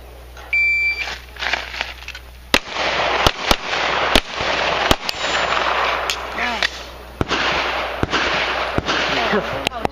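Gunshots at an outdoor shooting range ring out as sharp, loud, isolated cracks, about nine of them at irregular intervals over steady background noise, with a man calling range commands between shots.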